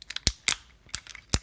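Several sharp plastic clicks from the ratcheting double-jointed knee of a Fanstoys Sovereign toy figure, close and crisp, in quick irregular bursts.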